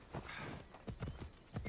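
Horse hooves clip-clopping at a walk in the video game Assassin's Creed Odyssey, a few soft, uneven thuds heard alone at moderate distance.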